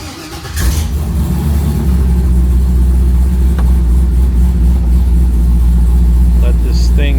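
A Dodge Dakota engine cranks and catches, then settles into a steady, loud low rumble of idling that continues throughout.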